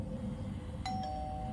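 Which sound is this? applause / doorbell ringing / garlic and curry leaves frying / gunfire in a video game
doorbell ringing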